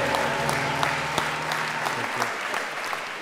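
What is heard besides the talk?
round of applause at mass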